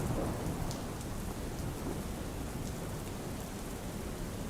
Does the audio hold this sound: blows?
no